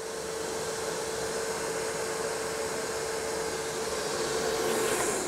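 A DEWALT Stealthsonic 9-gallon wet/dry vacuum runs steadily with a smooth, airy whoosh and a faint tonal whine, moderately quiet and unbroken for several seconds, with no talking.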